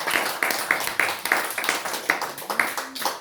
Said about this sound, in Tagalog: Pwede bang palakpakan natin ngayon ang ating Panginoon?